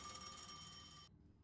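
An old telephone bell rings in Dishwashing Simulator, one bright, loud trilling burst that cuts off abruptly into near silence after about a second.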